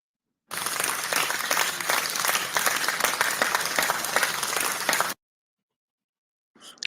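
Canned applause from a video call's clapping button, a dense burst of many hands clapping that runs steadily for about four and a half seconds and then cuts off abruptly before a brief sound.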